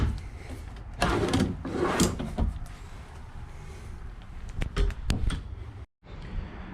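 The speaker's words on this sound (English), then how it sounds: "Some more drawers over here." Bedroom drawers in a family fifth wheel slide open and shut, a few close wooden knocks and scrapes in irregular succession.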